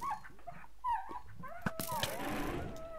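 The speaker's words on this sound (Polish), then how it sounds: "O Jezu, jakie odgłosy, jak biedny piesek." A dog whimpers and yips plaintively in a modded Minecraft world, with a run of high, wavering whines alongside game noises and a brief burst near the end.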